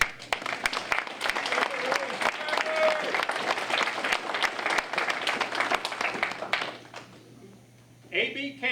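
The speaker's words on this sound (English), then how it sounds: "Now we clap." An audience at a submarine veterans' Holland Club ceremony breaks into sustained applause, dense steady clapping from a crowd in a hall lasting about seven seconds before fading out, followed by a brief murmur.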